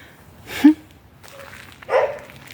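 A dog barks twice on a quiet residential street lined with viburnum, two short, moderately loud yaps spaced over a second apart against a hushed background.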